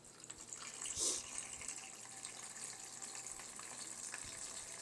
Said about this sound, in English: I'm putting about an inch of water in the tray.